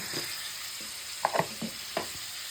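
Ginger garlic paste and cumin frying in a pan, a soft, continuous sizzle broken by a few scraping stirs, close and fairly quiet with no talk.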